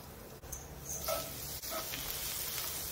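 Garlic sizzles in hot cooking oil in a pan while curry crab is being cooked, giving a soft, steady frying hiss with a few faint clicks and scrapes.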